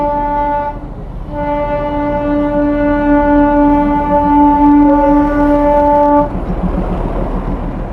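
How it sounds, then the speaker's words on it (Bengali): The Darjeeling toy train at Batasia Loop sounds a long, loud, steady horn blast that holds for several seconds after a brief opening note, with a low rumble of the train running beneath and continuing once the horn stops. "তোমার জন্য এসেছিলাম টয় ট্রেন"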